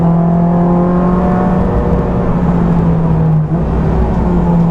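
A car with PBS performance brakes accelerating steadily on a track during brake bedding-in, a loud, close, sustained engine drone with a steady pitch that barely dips for a moment, heard from inside the car with no talking.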